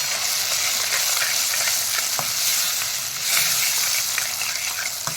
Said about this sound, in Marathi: आता आपण आपली तयार ही टोमॅटोची पेस्ट किंवा प्युरी घालूया छान परतून घेऊ मस्त तेल सुटेपर्यंत